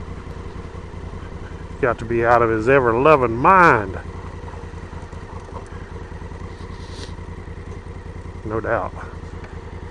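A Honda Africa Twin CRF1000L motorcycle rides on icy, snowy ground in 2 degree Fahrenheit cold, its engine revving in a few wavering bursts over a low idle, and someone talks over it.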